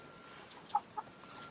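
Chickens cluck softly in a coop, two brief close clucks standing out over a faint background hiss.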